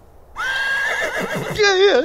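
A horse neighs loudly and close, a long whinny followed by a second higher, shaking call, with no talking over it.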